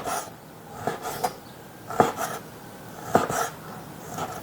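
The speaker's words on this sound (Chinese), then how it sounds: "再把它那个肉把它切成薄片，像这么薄薄的片就行了" A knife cuts lamb meat into thin slices across the grain on a board, giving a few separate soft scraping strokes, close and fairly quiet, with no talk.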